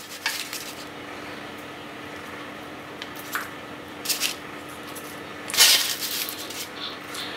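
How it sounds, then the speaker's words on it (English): Vegetables get spooned into a dish of quinoa, making soft scraping, clinking and shuffling sounds. A louder rustling scrape stands out near the end against a quiet background with a steady hum. "now I'm going to add the vegetable to the quinoa"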